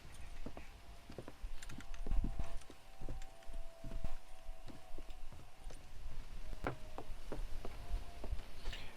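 Horse hooves in Red Dead Redemption clip-clopping in a steady, brisk rhythm, fairly close and clear, with no talk over them.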